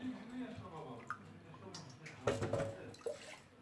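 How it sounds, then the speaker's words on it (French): Orange juice and water pour into a glass in a kitchen as a short splashing trickle, mostly in the second half, with a person talking over it. "on va prendre le jus d'orange. Ça donnera un demi-verre avec un demi-verre d'eau"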